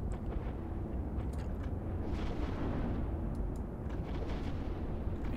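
Spaceship guns in the space game Eve Online fire at an enemy ship, producing a steady rumble of dull, booming bursts and pops that continue throughout with no voices.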